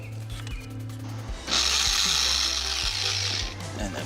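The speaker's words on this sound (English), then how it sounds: "So I think we'll go ahead and drill those." A power drill boring holes for a pedal modification on a Porsche 996, a loud steady whine of about two seconds with a ratcheting, mechanical edge, set between quieter handling noises close by.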